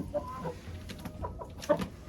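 Young hens cluck in a chicken coop, with several short, close clucks and calls scattered irregularly over quiet farmyard background.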